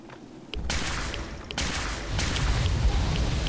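Gunfire in Fallout 4, with sharp, loud bursts of shooting coming in several quick volleys that merge into a dense, rattling barrage as the shots build on one another.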